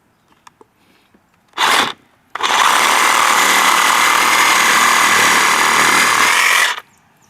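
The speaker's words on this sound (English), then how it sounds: "I'm going to cut it off with a reciprocating saw" A reciprocating saw cuts off the pipe of an outdoor hose bib: one short burst, a pause, then a loud, steady, buzzing cut lasting about four seconds before it stops abruptly.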